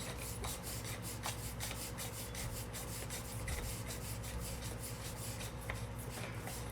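The air cylinder of a Macavity Arms MA2 .30 air rifle is unscrewed by hand, giving close, quiet, repeated scraping and rubbing of metal threads.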